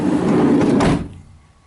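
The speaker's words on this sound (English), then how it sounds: "And then we just try the door before we put the stop back on." Sliding side door on a VW Caddy MK4 van being run along its new rollers and shut, a loud rolling slide ending in a solid thud, then quiet.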